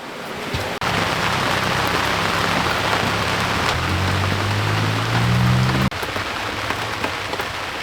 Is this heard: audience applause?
no